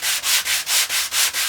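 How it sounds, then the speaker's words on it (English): Hand sanding of a wooden bookmark scrapes back and forth in a quick, even rhythm, six or seven close, rasping strokes with brief pauses between them. "I just enjoy this sanding."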